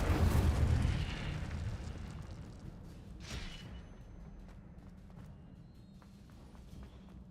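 A fire spell cast in Hogwarts Legacy opens with a loud roaring burst that slowly fades into a low rumble, followed by a brief whooshing flare midway and a quiet tail.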